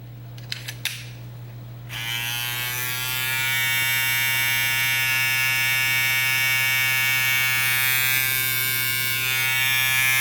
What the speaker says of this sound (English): that is the foil shaver, the Crunch Light